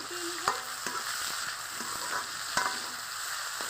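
Onion, garlic paste, ginger paste, tomato, salt and turmeric sautéing in hot oil for a fish-roe kofta curry, a steady close sizzle broken by a few sharp scrapes and clinks of a spatula against the pan.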